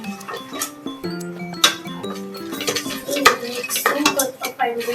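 Popcorn is stirred in a metal pot with a utensil, producing busy clattering and scraping with bright metallic clinks, loud and close.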